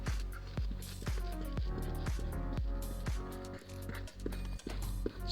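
Soft, heavy thuds and squelches as brioche dough is tipped out of a bowl onto a floured work surface, with several distinct impacts close by and no talking.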